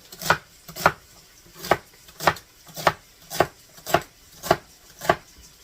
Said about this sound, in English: Let's get that celery chopped up too.